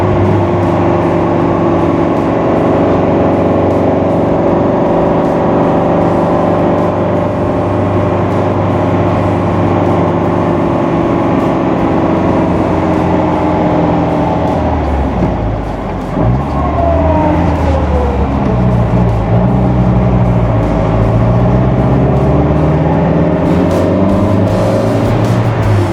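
A 1959 MGA Roadster, frame-off restored, with its 1500cc four-cylinder engine running, a loud, close, steady idle with a droning hum that shifts pitch slightly partway through.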